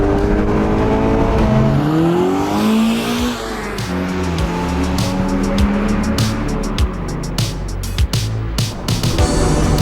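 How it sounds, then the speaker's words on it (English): A Mazda Miata's four-cylinder MZR engine revs up and down repeatedly, loud, close and a little thrashy, with rising and falling tones and sharp bursts near the end. "This MZR engine is a little bit thrashy,"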